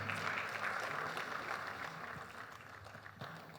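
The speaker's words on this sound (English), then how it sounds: "The last statement there deserves a better applause" An audience at a cooperative awards ceremony applauds: continuous, fairly soft clapping with a steady low hum underneath, never breaking off.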